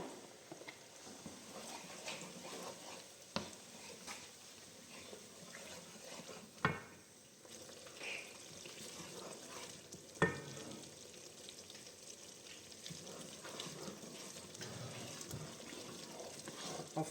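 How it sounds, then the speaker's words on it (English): Nigerian-style beef and fish stew base of tomato, paprika, pepper and onions fries in a pot with a steady, moderate sizzle and hiss, broken by a few sharp clinks of utensil against metal, with no talk. "I've fried it for a while now"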